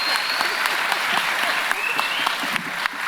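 An audience at a high school panel event gives the speakers a round of applause. Steady, fairly loud clapping fills the room, and a few individual sharp claps pop out of the crowd noise.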